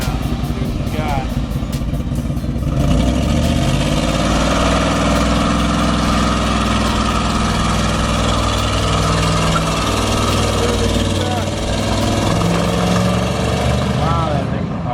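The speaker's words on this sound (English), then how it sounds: "Do a little burnout. See what you got." A Ford F100 truck with custom suspension doing a burnout: a loud, steady engine roar held near full throttle for the whole stretch, with a constant low rumble and people talking over it.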